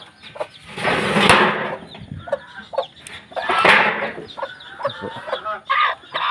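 Hens and chicks on a small farm cluck in repeated bursts, a broody hen among them, with louder flurries of clucking near the mic and softer peeps and calls in between.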